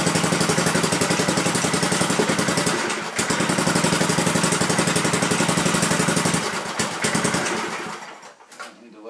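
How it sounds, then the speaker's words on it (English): A Manco Thunderbird mini bike engine idles with a steady, close, pulsing putter for about eight seconds, then dies away into quiet. "I need to let it warm up before I rev it"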